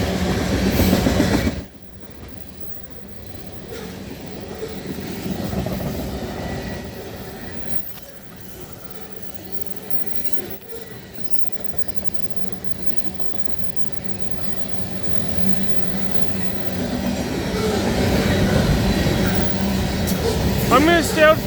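A Norfolk Southern locomotive leads a freight train past at close range, a steady rolling rumble with rail clatter that swells again toward the end, with people talking over it.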